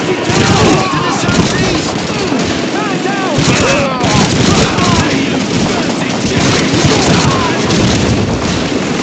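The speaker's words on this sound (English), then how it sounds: "MG-42!" MG-42 machine gun fire in Call of Duty 2, during the British campaign's battle for Caen at the crossroads, forms a loud, dense and continuous battle din, with shouting voices over the shooting throughout.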